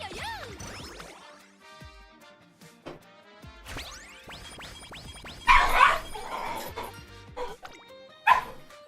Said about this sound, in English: Oh my goodness, these dogs.